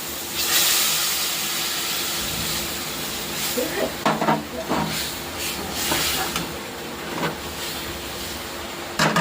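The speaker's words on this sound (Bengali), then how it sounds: "এখন দিয়ে দেবো গরম জল।" Hot water is poured into a pan of spice paste fried down until the oil separates, giving a steady sizzle and hiss with clattering stirring and faint voices in the background.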